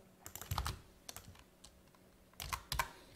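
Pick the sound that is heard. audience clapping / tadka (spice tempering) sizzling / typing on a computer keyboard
typing on a computer keyboard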